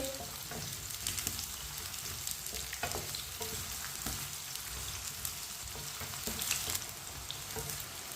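Potato and eggplant pieces frying in oil in a pan over medium heat, giving a steady, close sizzle with occasional spoon stirring and scraping, no voices.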